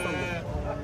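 A lamb at the Sokuluk sheep market gives one short bleat under a voice in the crowded livestock trading area.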